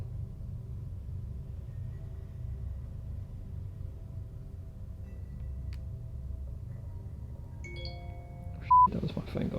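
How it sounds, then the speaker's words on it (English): A mobile phone goes off late in a night-time stay at Glenbarr Homestead: a short burst of stepped electronic ringtone notes cuts in over a low, steady room rumble. "That was my phone going off."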